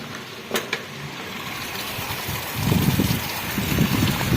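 Heavy, unrelenting rain pours outside a new house during a windy monsoon downpour that is flooding fields, a steady broadband hiss with a few early knocks and gusty low wind rumble swelling in the second half.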